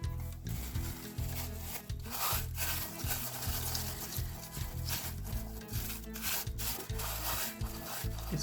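A small piece of plastic rubs and scrapes around the inside of a papier-mâché bowl in close, quiet, irregular strokes, with no talk.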